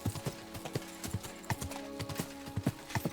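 Horse hooves clip-clopping at a steady riding pace through woodland in Kingdom Come: Deliverance II, a continuous rhythmic run of hoofbeats with a faint whinny, loud and close with no talk.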